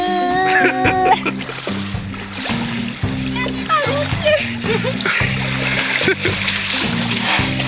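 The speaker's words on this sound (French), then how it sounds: "je vais aller me baigner dans un lac glacial" Water splashes and churns as a person plunges into icy Lake Baikal, with close, choppy splashing throughout and voices talking over it.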